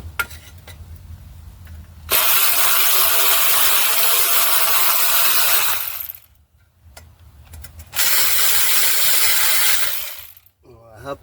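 A small Craftsman hand ratchet tightening bolts during a 2009 Dodge Journey engine installation, two long bursts of rapid, loud clicking pawl ratcheting close up, separated by a brief quiet pause.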